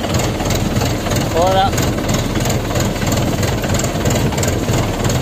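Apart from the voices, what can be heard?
tractor engine running while ploughing a field with a tiller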